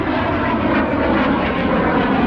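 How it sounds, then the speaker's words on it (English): A turbojet-powered biplane at EAA AirVenture Oshkosh roars past, a loud, steady jet rush and rumble holding throughout with no voices. "Straight up turbojet engine."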